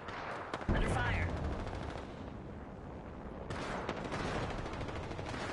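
Rapid gunfire in Apex Legends, a dense crackling volley that runs almost continuously at moderate level, with a voice faintly underneath.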